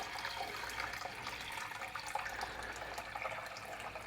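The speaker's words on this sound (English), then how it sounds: "let's pour our water slowly in, not to disturb Nimrod too much." Dechlorinated, temperature-matched water poured slowly into a betta aquarium aquascape, a steady soft trickle and splash that runs evenly throughout, fairly faint.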